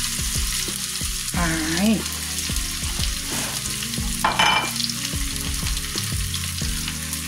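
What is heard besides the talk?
onion frying in hot oil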